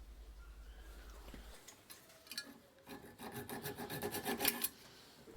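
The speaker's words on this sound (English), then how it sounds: "I'll remove this rivet by sawing off its end with a hacksaw." A close, rhythmic rasping of a hacksaw sawing off the end of a metal rivet on a hand plane, strokes quickening and growing louder after a quiet start.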